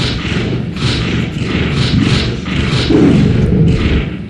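A turret is blown up in Dark Horizons Universe, an online war game: dense, loud battle noise with repeated heavy thuds and booming impacts rolling through the whole stretch.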